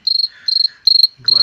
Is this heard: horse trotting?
no